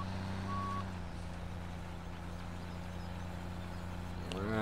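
A truck reversing in a farm driving game, with steady beeping over a low idling engine drone, fairly quiet and continuous, with a rising mechanical sound at the end.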